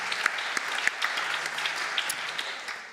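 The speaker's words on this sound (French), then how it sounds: "Vous pouvez l'applaudir également." A hall audience at a women-in-cybersecurity trophy ceremony claps for an honoree, a continuous, moderately loud patter with a few louder hands popping through, tapering slightly at the end.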